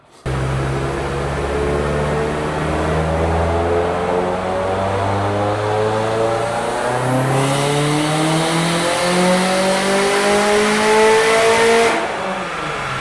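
A Subaru STI on Cobb's next-gen tune, emissions compliant and running 93 octane, makes a sustained dyno pull, its engine note climbing steadily through the revs, loud and close, before a brief shift and cutoff near the end.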